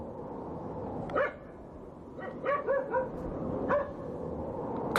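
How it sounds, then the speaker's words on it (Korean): A dog ahead gives low warning barks in the cold: a single bark, then a quick cluster of three, then another single bark. They sound fairly faint over a steady background rumble. "느리고 나직하게 으르렁대듯 연속으로 짖는 소리가 들려왔다"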